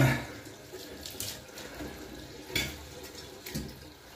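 Tap water runs into a sink while a specimen that was stored in alcohol is rinsed. The hiss is steady and close, with small splashes and clatters breaking through now and then.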